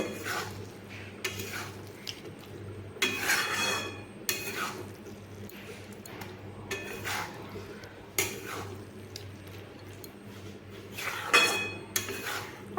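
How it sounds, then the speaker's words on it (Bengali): A pan of bottle gourd curry being stirred and sautéed: bursts of spatula scraping against the pan come in irregular strokes over a low, steady background hum, with little audible sizzle. "এটিকে এইভাবেই একটু ভালোভাবে কষিয়ে কষিয়ে নিয়ে রান্নাটি কমপ্লিট করব"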